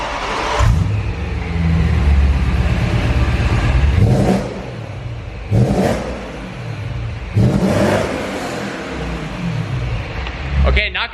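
A supercharged manual BMW M3 fitted with an aftermarket Kropovich exhaust revs hard several times in a row, each loud rising blip followed by a settling idle, with people talking over the engine noise.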